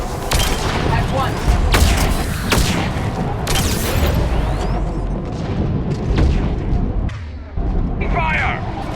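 Dense gunfire and booming blasts from a Mass Effect 3 firefight on Insanity difficulty, loud and continuous with repeated heavy impacts throughout, briefly dropping out near the end before resuming.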